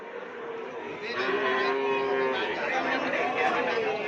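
Cattle moo repeatedly over a busy crowd chatter, with several animals lowing nearby at a livestock market in Pamekasan, Madura, selling Sapudi Island cattle.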